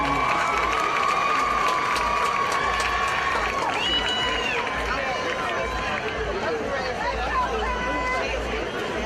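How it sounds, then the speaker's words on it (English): A large crowd at a high school football game cheers and claps continuously for the homecoming queen, with loud chatter and shouts mixed in throughout. "Let's give our homecoming queen a round of applause, Ms. Tayana Matthews."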